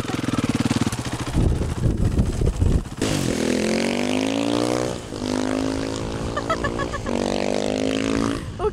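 A Supermoto motorcycle engine revs hard while being ridden, rising and falling in repeated bursts with gear shifts, loud and close, with a voice briefly heard.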